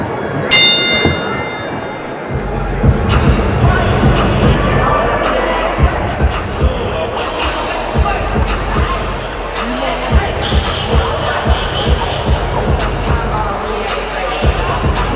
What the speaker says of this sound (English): Crowd getting into it here in Detroit.